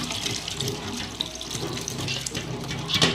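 Water runs steadily from a tap in a home kitchen, a continuous hissing splash heard close up for a few seconds with no voices.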